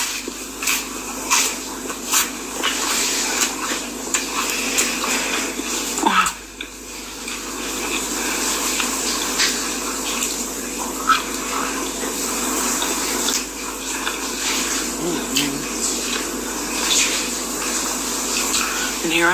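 Steady rushing water like a running shower fills the whole stretch, continuous and fairly loud, with faint knocks and shifts over it.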